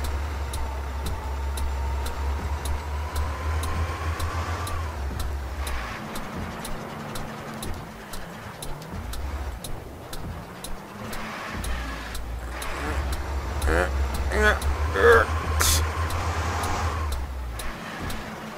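A low, rumbling old truck engine in Euro Truck Simulator 2 drones steadily, dropping out briefly midway before revving back up, with a few faint chirps above it.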